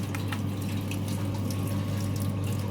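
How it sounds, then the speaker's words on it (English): Water pours steadily from a pipe into a beaker during a pipe friction lab experiment, a constant close gushing flow with no talk. "I'm starting to collect water."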